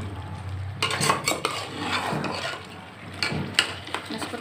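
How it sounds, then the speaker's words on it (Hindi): Chicken being stirred with salt in a metal pan for a turnip curry, with clinking and scraping of a spoon against the pan over a faint sizzle, in a few irregular bursts. "अब मैं नमक डाल रही हूँ। मैं इसको अच्छे से मिक्स कर लूंगी"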